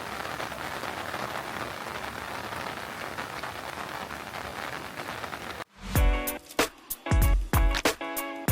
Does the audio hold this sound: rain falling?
yes